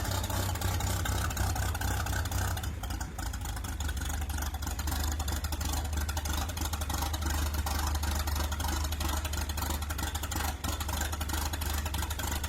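An antique 10-20 tractor's 4-cylinder inline engine of about 284 cubic inches runs continuously, a steady low throbbing chug with rattly mechanical noise, moderately loud and unbroken throughout.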